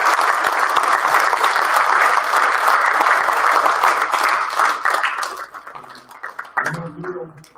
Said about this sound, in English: let's give them a great hand